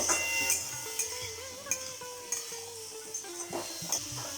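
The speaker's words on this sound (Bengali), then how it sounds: "একটু নাড়াচাড়া করে নেব।" Potato pieces and fenugreek leaves are stirred in a cooking pan, with repeated clinks and scrapes of a utensil against the metal at an irregular pace over a faint sizzle.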